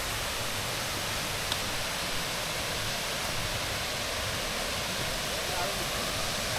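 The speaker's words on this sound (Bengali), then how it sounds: "এই হলো গিয়ে ফলস।" Lyngksiar Falls in Meghalaya pours in a steady, broadband roar of falling water, loud and unchanging throughout, with a voice faintly under the rush.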